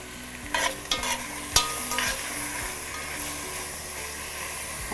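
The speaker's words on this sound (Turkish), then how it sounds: "Etim oluyor, soğanlarım oluyor." Meat and onions sautéing in a pan for a Turkish stuffed apple dish, a soft steady sizzle with a few stirring scrapes and clicks early on, close by and with no talk.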